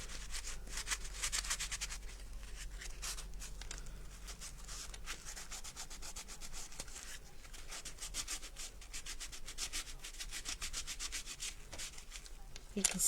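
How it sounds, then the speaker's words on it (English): Continuous rhythmic rubbing of a worn sanding block on MDF, a dry scratchy back-and-forth that goes on steadily and fairly quietly. "I think this poor sanding block is getting a little bit beyond its ability to sand very well"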